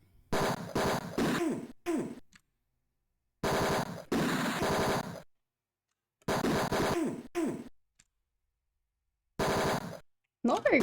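Bursts of video game gunfire from the shooting segment of Tex Murphy: Mean Streets come in several short, loud clusters of rapid shots, separated by stretches of complete silence.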